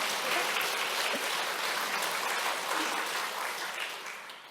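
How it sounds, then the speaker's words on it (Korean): A church congregation applauding during a Sunday worship service, a dense, even clatter of many hands that holds steady and then tapers off at the end, with no voices over it. "박수를 치려면 확실하게 치시든지."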